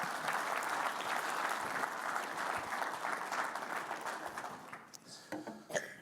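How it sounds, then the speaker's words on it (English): An audience at a construction conference applauds loudly and continuously, the clapping tapering off into scattered claps and room noise near the end. "How about a round of applause?"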